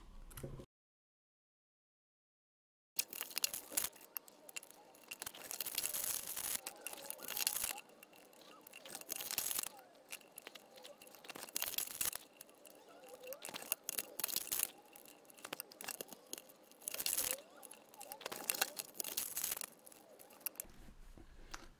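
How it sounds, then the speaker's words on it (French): Ten LTO 23Ah lithium titanate battery cells are unpacked from their packaging, with crinkling, tearing and rustling of wrappers continuing close up after a short silent start. "je vais déballer toutes les cellules et les contrôler une à une"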